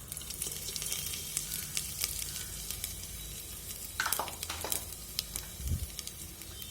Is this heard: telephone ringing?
no